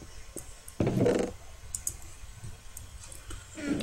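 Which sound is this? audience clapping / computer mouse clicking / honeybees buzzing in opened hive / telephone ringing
computer mouse clicking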